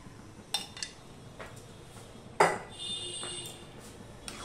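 Bengali bhog khichuri with ghee being stirred in a cooking pot: a few sparse, light clinks and scrapes of a spoon against the pot, close and fairly quiet, with no talking.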